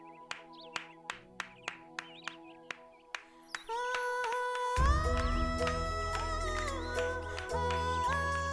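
A single person claps sharply and evenly, about a dozen crisp slaps close by, before loud music with deep bass swells in and fills the rest of the scene.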